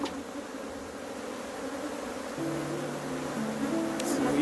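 Africanized honey bees buzz around stacked hive boxes in Trinidad, a soft, steady drone that thickens and grows slightly louder partway through, with faint handling noises.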